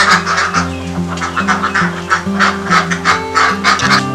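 A flock of laying ducks kept in a farm pen quacks continuously, many overlapping honking calls near and loud over a steady low hum.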